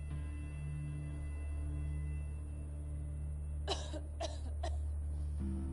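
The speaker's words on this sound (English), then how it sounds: "Is she still coughing?" A character coughs in the ATOM RPG video game: three short, distinct cough bursts arrive in quick succession over a constant low game hum.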